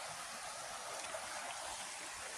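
Water rushes in a stream near a waterfall in a botanical garden, a steady, soft broadband hiss with no other sounds.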